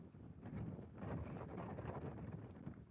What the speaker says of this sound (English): God, this wind sucks.